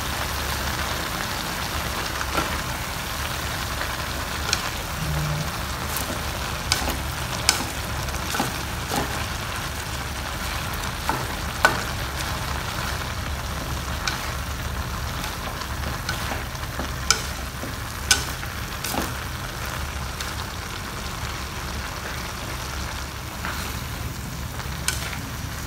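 Luffa gourd with bean sprouts and chives stir-fries in a pan with a continuous sizzle. Scattered clicks and scrapes of stirring come and go over the whole stretch, with no talking.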